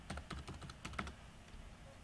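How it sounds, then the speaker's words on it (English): Quiet, rapid keystrokes on a computer keyboard, an uneven run of soft clicks that thins out toward the end, heard alone at low level. "I'm going to type SBBB and technology."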